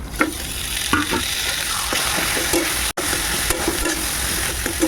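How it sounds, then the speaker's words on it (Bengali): Boiled dal goes into a pan of fried onions with turmeric, setting off a loud, steady sizzle under repeated scraping strokes of a spoon stirring the pot, with one abrupt momentary dropout midway. "এর উপরে আমি সিদ্ধ করে ডালগুলো ঢেলে দেবো"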